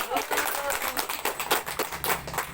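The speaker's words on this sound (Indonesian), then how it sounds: "Tepuk tangan buat Ibu Tumini" Scattered applause from participants at a handwashing training session, given for Ibu Tumini, with a person talking over the clapping throughout.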